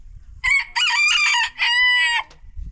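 A rooster crows loudly and close by in a forest setting, one full crow broken into three drawn-out, strained phrases, with only faint background noise around it.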